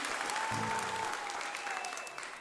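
Applause from a live music audience right after a song, a dense steady wash of clapping at close range with a faint sustained tone and brief low murmurs underneath.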